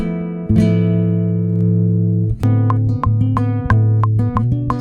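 Plucked acoustic guitar notes recorded direct through an impulse response plugin ring out with a clean, slightly processed tone, a sustained chord followed by a steady rhythmic picking pattern.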